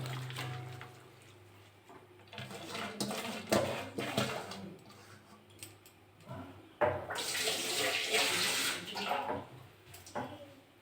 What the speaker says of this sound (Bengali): কড়াতে একটু জল দিয়ে দেবো।